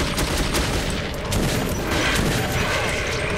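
Machine gun fire in the video game Metro 2033 makes a dense, continuous rattle of rapid shots over loud, gritty noise, with no break across the whole stretch.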